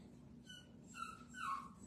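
A dog whimpering in soft, high, drawn-out whines, two brief cries that rise toward the end, heard fairly close over a quiet room with a low steady hum.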